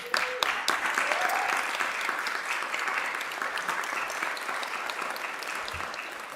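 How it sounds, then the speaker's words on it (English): Audience applause fills a Columbus city council meeting chamber, a dense, steady wash of many hands clapping that holds at an even level from start to finish, with a voice heard briefly near the opening. "Let's give him a round of applause"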